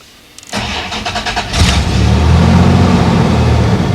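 A 1989 Dodge Dakota truck's engine is started dead cold: a short burst of starter cranking catches within about a second into a loud, close, steady idle, with no talking.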